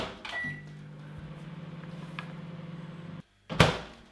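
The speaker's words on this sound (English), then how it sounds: "So we'll just bung it in the microwave for like 15 seconds." Microwave oven running to soften butter: a short beep, then a steady hum with a faint rhythmic whir for about three seconds, a stop, and a loud door click and clunk as it opens.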